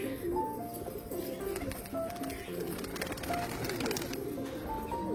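Several pigeons with clipped wings coo in low, repeated throaty calls, some near and some farther off, while a person talks over the birds throughout.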